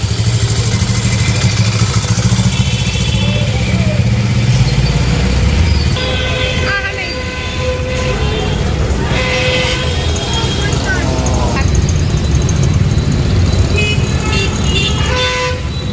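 GSRTC buses and general traffic at the busy Rajkot bus stand, with rumbling engines, a passing motorcycle and scattered horn toots under nearby talk.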